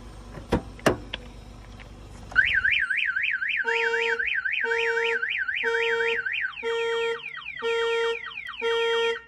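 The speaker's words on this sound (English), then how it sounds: "it's gonna fire off the alarm and it's gonna shut off the engine." A car alarm on a remote-start system fires as a door opens, opening with a few sharp clicks, then a loud warbling siren followed by repeated chirping tone bursts in a steady rhythm, close and alone.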